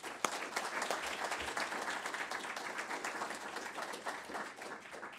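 A university lecture audience applauds to welcome a speaker, a dense, steady wash of many hands clapping from start to finish, moderately quiet and without voices.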